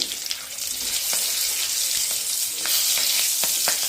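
Nigella seeds and a few green chillies fry in hot oil, a loud continuous sizzle with a few sharp crackles and pops.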